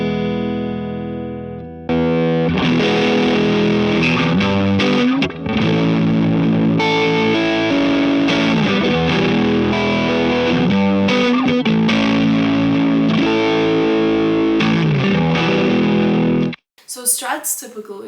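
An electric guitar runs through a JHS 90s-style drive pedal with its knobs centred, giving a loud, gritty grunge-style distortion over roughly fifteen seconds of strummed chords and riffs, ending abruptly with a short burst of noise.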